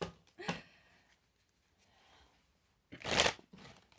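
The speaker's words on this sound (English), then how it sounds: "Quick shuffle and get back to it." A deck of tarot cards is shuffled by hand in two quick, quiet bursts, a short riffle followed after a pause by a longer, louder flutter of cards, close by in a quiet room.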